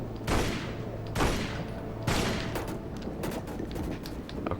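Several gunshots ring out in the video game Tomb Raider: Legend, three or four sharp separate cracks spaced about a second apart, then a quicker cluster of lighter pops, loud against a quiet game ambience.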